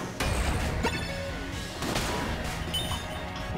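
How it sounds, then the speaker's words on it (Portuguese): Charged gunshots from the twin-stick shooter game Exit the Gungeon: loud, crashing bursts of gunfire blasts that recur over a dense, continuous layer of game effects. "Tem tiros carregados."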